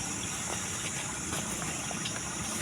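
Strong floodwater rushing and gushing past, sweeping along garbage, a steady loud churning roar with no talk over it.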